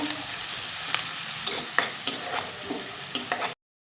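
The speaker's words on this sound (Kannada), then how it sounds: "ಈರುಳ್ಳಿ ಹಾಕ್ಕೊಂಡು ಸ್ವಲ್ಪ ಚೆನ್ನಾಗಿ ಫ್ರೈ ಮಾಡ್ಕೋಬೇಕು ಈರುಳ್ಳಿ ಹಾಕೊಂಡಾಗಲೇ ಸ್ವಲ್ಪ ಅರಿಶಿನ ಪುಡಿನೂ ಆ್ಯಡ್ ಮಾಡ್ಕೋಬೇಕು" Sliced onions with turmeric powder sizzle in a pan for a brinjal curry, a loud, steady frying hiss broken by the scrape of stirring strokes until it cuts off abruptly.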